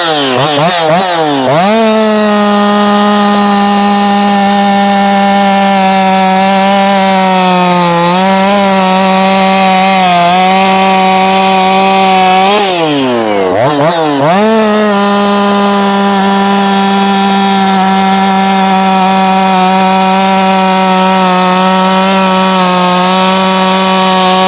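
A Jonsered 2156 chainsaw screams at high revs while its fuel mixture is adjusted, the loud steady engine note dipping and wavering briefly twice before climbing back to a sustained whine, with no talking.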